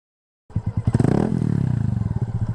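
A motorcycle engine starts after a brief silence and runs close by with a steady, throbbing idle and slight revving as a beginner learns to ride.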